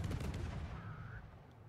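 Naval gunfire in a video game, a battle involving the ship Sejong, rings out as a dense burst of booming shots that fades into a rumbling, noisy battle backdrop.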